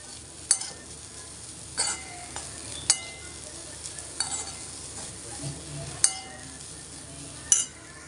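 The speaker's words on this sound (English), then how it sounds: "Now we'll add the crushed coconut and green chili mix in this and saute this for few minutes." Bamboo shoots sautéing with crushed coconut and green chili in a pan, a soft quiet sizzle punctuated by several sharp metallic clinks of the spoon against the pan.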